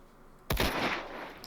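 A single loud, close sniper rifle shot in Minecraft with Minecolonies, a sharp crack followed by a long decaying rumbling tail and a small blip near the end.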